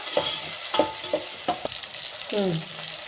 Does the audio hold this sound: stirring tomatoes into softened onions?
yes